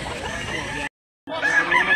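A six-year-old Talisayon gray white-leg gamecock rooster crows loudly and close, its call broken by a brief silent gap before the crowing resumes, with faint clucking and no talk.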